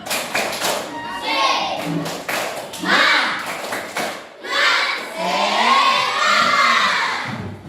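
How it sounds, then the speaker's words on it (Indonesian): In a classroom, students chant loudly together while doing a rhythmic spirit clap, with bursts of group claps and taps between bouts of shouted chanting by children's voices. "tepuk semangat"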